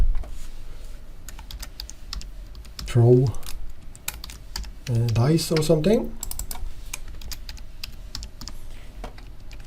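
Close-up computer keyboard typing while programming in LabVIEW, with irregular bursts of light, clicky keystrokes running throughout. Someone speaks over the typing in two short stretches.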